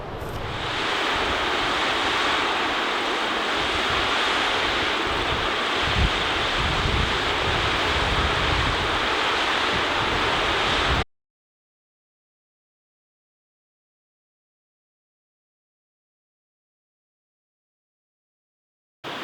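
Ohura Falls, a lower waterfall on the Ohura River, roars as a steady, loud broadband rush of falling water mixed with wind buffeting the microphone, continuous for about eleven seconds before cutting to silence.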